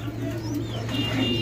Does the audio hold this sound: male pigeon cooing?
yes